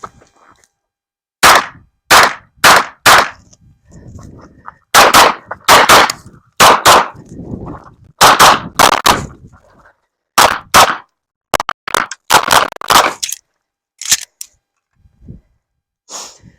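Pistol shots ring out during a practical shooting stage, sharp and loud, fired in quick pairs and clusters with short gaps between strings as the shooter moves.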